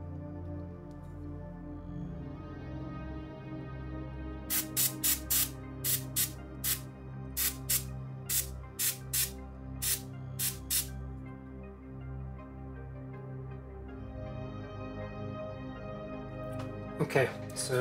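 Miniatures get a zenithal spray prime in bursts of aerosol hiss, a dozen or so short sharp sprays in quick clusters, close and loud over quiet background music.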